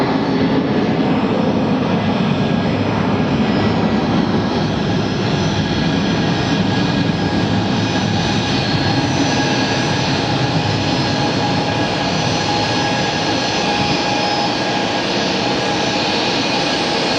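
A jet airliner with CF6 engines roars steadily through its takeoff run at Phoenix Sky Harbor, a loud, sustained engine rumble with a broad hiss and whine that never lets up.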